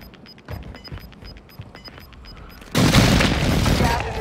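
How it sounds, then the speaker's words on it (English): Airstrike explosions in the Warzone 2 shooter game: a sudden heavy boom erupts partway through and rolls into sustained rumbling blasts, following quieter scattered shots, footsteps and a repeating high beeping. "Hostile airstrike incoming"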